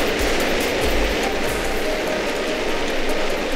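Jetpack in the game Goat Simulator, giving a steady, loud mechanical whirring and rattling drone that runs unbroken through the whole stretch, with no voices over it.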